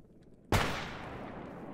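A single sharp gunshot in S.T.A.L.K.E.R. GAMMA cracks loudly out of near quiet and trails off into a long, fading echo.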